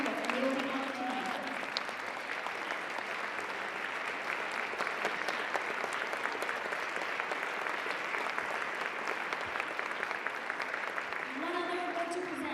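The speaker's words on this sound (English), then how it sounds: "Round of applause for all of them." Steady audience applause fills an awards gala, a dense continuous clapping of a large crowd that carries on without pause for about twelve seconds, with faint voices at the edges.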